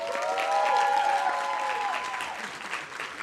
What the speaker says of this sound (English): If y'all could all just face Bobby and give him a round of applause